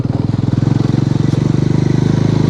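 A motorcycle running close by on a mountain road in Nepal, its engine putting out a steady throbbing pulse that holds loud and continuous throughout, with no talk over it.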